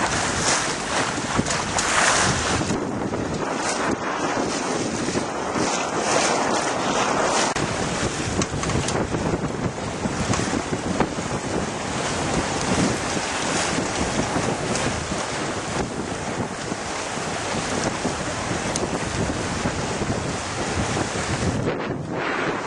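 A sailboat under sail among the Isles of Scilly, with constant heavy wind buffeting the microphone, rushing water and waves along the hull, loud and unbroken throughout.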